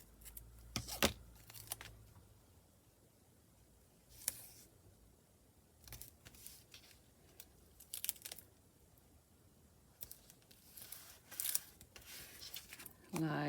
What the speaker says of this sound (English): I have to cut that straight.